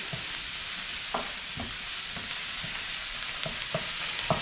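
Mushrooms sautéing in a pan for risotto, a steady soft sizzle with occasional stirring scrapes and light knocks spread through, no talking.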